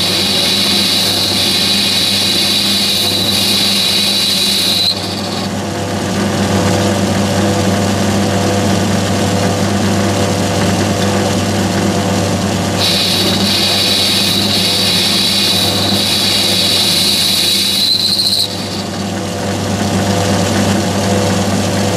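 A lathe takes a facing cut on the back face of an MT2 live centre with an ER11 collet chuck; a steady motor hum runs throughout, with a thin, high cutting whine during two stretches.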